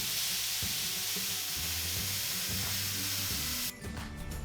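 A spray gun sprays polyurethane top coat onto a repaired chair with a loud, steady close-up hiss that cuts off abruptly near the end, leaving a quieter airy background.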